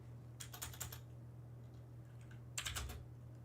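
Two short flurries of quick keystrokes on a computer keyboard, faint and somewhat distant, rise over a steady low hum with a quiet gap between them.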